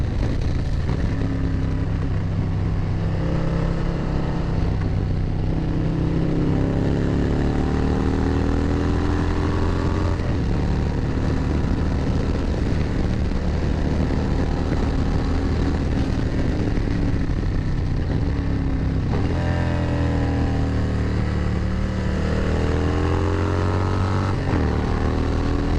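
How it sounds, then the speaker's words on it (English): A motorcycle rides through twisty roads, its engine loud and near, pitch repeatedly rising and falling through gear changes and throttle swells, with wind noise and no talking. "I'm going to shut up and ride and let you hear the bike for a little bit."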